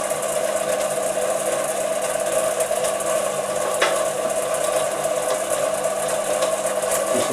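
Chinese mini lathe cutting a left-hand thread, a steady mechanical whir and grind running evenly throughout at moderate level, with a brief sharper scrape partway through.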